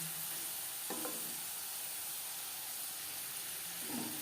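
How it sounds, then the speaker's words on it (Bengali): French fries fry in hot oil over a medium flame, a steady close sizzle and hiss with a couple of brief stirring clinks. "ভাজবো মিডিয়াম ফ্লেমে"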